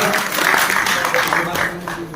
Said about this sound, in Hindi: इनका तालियों के साथ एक बार सलाम कीजिए सूर्यदीप जी का